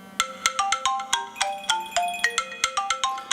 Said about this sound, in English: My iPhone is also ringing